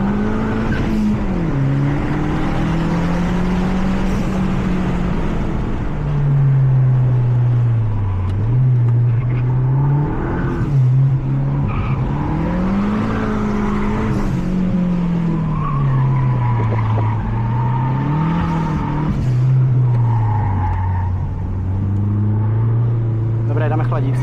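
Mazda 3 MPS Turbo driven hard on a race track, its engine droning loud and close with pitch rising and falling through gear changes, tires squealing in corners, all continuous from inside the car.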